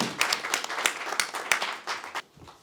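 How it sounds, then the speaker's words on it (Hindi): An audience at a media leadership summit held in the House of Lords gives a brief burst of applause, clapping thick at first and then thinning out and stopping after about two seconds. "एक बार जोरदार तालियां।"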